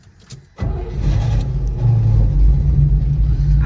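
A stick-shift car engine cranks briefly and then catches, settling into a loud, steady running rumble close by.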